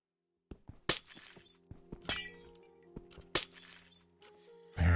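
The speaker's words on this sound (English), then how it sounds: "if you don't like the sound of glass breaking, you might want to mute for a second" Glass blocks shatter one after another in the video game Minecraft, with several sharp, bright crashes spaced a second or so apart amid small clicks and thuds, close and moderately loud, with no talk.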